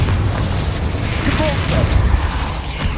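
Explosive spell blasts in Hogwarts Legacy during a fight in a goblin mine, a dense rumbling barrage of low booms and pops running continuously under a busy game soundscape with voices calling out.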